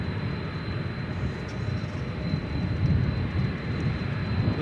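Airliner arriving from Dubai on approach to land at DFW airport, a steady broadband jet roar rising slightly toward the end with a faint whine above, no talk.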